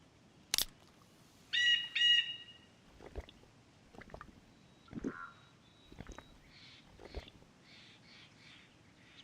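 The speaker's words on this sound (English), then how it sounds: "Noisy birds make me get scared." Bird calls in the survival video game DayZ: a sharp chirp, a rapid stuttering trill, then scattered softer tweets and rustling clicks at moderate distance, with no talk.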